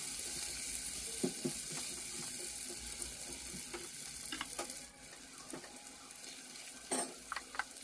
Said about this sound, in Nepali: अब मजाले हामीले चलाउनु पर्छ।